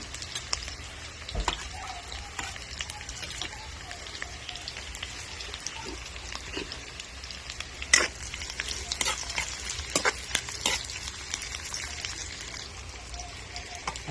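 Garlic sautés in a hot pan for a radish stir-fry, giving a constant crackling sizzle broken by scattered sharp pops and spatula scrapes, close and moderately loud with no talking.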